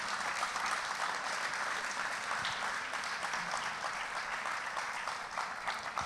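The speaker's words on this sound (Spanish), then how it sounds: "Dele un aplauso al Señor" A church congregation claps in steady, continuous applause, a broad even patter of many hands, moderately distant with no break.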